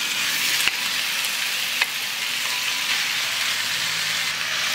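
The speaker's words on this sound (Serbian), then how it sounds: "Ulje se zagrejalo i spuštamo meso na prženje." Meat frying in hot olive oil in a pan, a dense continuous sizzle close up, with a couple of sharp utensil clicks.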